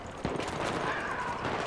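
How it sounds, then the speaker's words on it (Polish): Rapid bursts of gunfire in a gun game round of a battlefield shooter, sharp cracks repeating loudly and close over a busy, continuous game background. "Strzał, strzał, strzał. Bum, bum, bum. Strzał, strzał, strzał."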